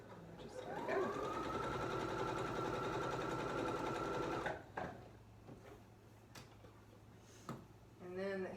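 Sewing machine stitching along elastic runs steadily and loudly for about four seconds with a rapid mechanical whir, then stops, followed by quieter handling of fabric and a few soft clicks.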